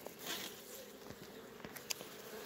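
Honeybees buzz around a hive in a steady low drone, with a few sharper knocks and taps near the microphone.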